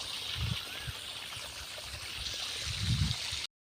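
Water runs from a pipe in a steady trickling stream, with a few low thumps and gurgles, then cuts off abruptly at the end.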